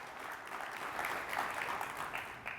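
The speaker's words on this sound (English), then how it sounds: "One more round of applause for Ryan Cooper, everybody." At a Seattle Children's celebration of a Minecraft server, an audience gives a round of applause for a guest, a continuous patter of many hands at moderate distance, fairly quiet and steady throughout.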